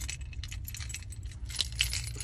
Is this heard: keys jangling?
yes